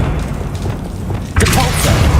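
An Accio summoning spell is cast in Hogwarts Legacy, a low, heavy magical boom that bursts in partway through, louder than the rumbling game sounds before it, with a voice briefly heard.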